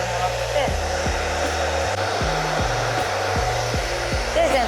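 A hair dryer blows steadily at a barbershop while hair is dried, its whir shifting in pitch every second or so as the airflow moves or the setting changes, close and continuous.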